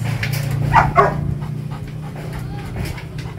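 A Great Dane pants loudly and close by inside a large kennel, with rapid breathy huffs, a couple of small whimpering sounds and a steady low hum in the background.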